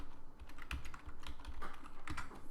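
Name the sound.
typing commands on a computer keyboard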